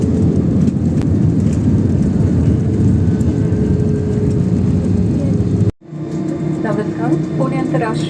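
An airliner lands at Bangalore airport, heard from inside the cabin as a loud, steady broadband roar that cuts off abruptly, then a lower engine whine continues as the aircraft rolls along the runway.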